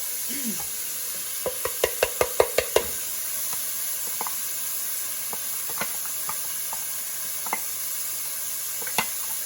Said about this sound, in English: I'm just gonna let this fry up